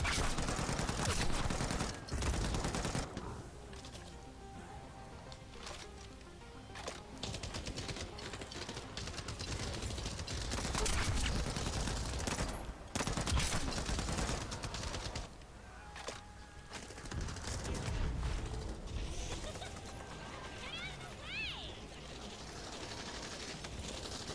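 Sustained light machine gun fire in The First Descendant, a co-op shooter game, loud continuous automatic bursts layered with other gunfire and game effects, rattling almost without pause, no talking.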